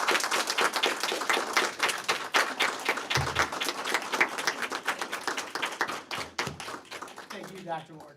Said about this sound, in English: a round of applause for the School of Innovation